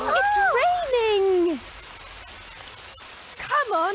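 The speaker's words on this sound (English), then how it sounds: "It's raining." Rain falls in a Tweenies children's cartoon episode as a steady soft hiss. Voiced, sing-song tones ride over it at the start and again near the end.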